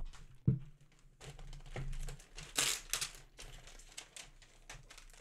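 New laptop packaging is unwrapped up close, with quiet, irregular crinkles and rustles of plastic and a brief louder tearing burst partway through, with no one talking.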